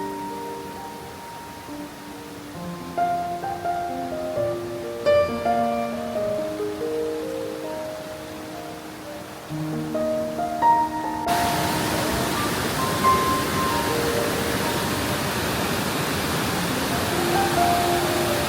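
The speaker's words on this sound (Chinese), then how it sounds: "这瀑布还挺有特点的，你看，它是从一层一层的石阶上滑下来的" A calcified-travertine waterfall in Jiuzhaigou slides down layered stone steps, its steady broadband rush rising in the second half after a stretch of soft melodic music.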